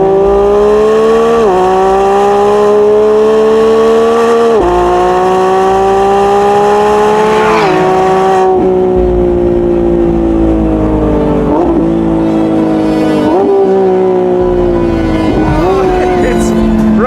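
Lamborghini Revuelto V12 hybrid supercar, 812 hp from the V12 plus three electric motors, accelerating hard through repeated rising gear pulls with shifts between them, loud and close, with people talking over the engine.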